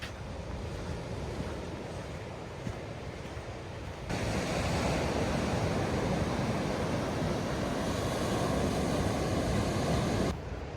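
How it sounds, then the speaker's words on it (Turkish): Sea waves from the Tasman Sea off Bruny Island roll in a steady, broad wash of surf, with wind buffeting the microphone throughout and the roar growing louder partway through. "Baya şu an işte Tazman denizine bakıyor yani aslında yarı bir okyanus gibi"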